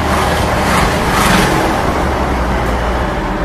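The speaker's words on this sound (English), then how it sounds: "Engine is smooth." A classic Mahindra Thar Di diesel engine drones steadily while driving along winding Kerala roads, a loud, continuous mid-range rumble with road and wind noise and a slight surge partway through.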